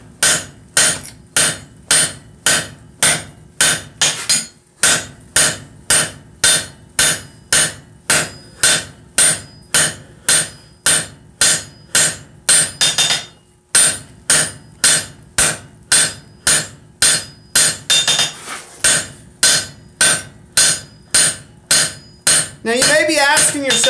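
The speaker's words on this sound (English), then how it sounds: "why are you doing this on the flat of the anvil? It's easier to do it either by biting on the edge or hitting it on the horn." A blacksmith's hammer draws down steel on the flat face of an anvil during a vice forging demo, ringing in a steady, even rhythm of about two blows per second, with a few brief pauses between runs.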